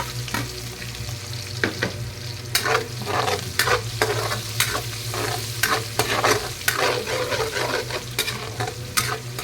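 Ginger, garlic and onion sizzle loudly in hot oil in a pan for a chicken curry, with frequent sharp scraping strokes of a spatula stirring them, no voices.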